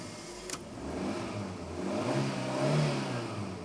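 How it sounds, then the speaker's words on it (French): A Porsche Cayenne V12 engine revs up, a low, steady roar rising and swelling near the end. It runs alone with no talk over it. "Attention à faire crier le moteur, le V12."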